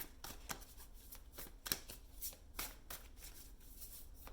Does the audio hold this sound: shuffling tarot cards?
yes